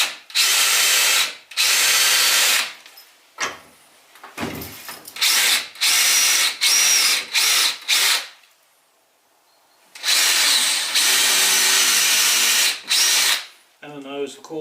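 A power drill whines in repeated loud bursts into wood, with short pauses between runs and a brief quiet stretch midway.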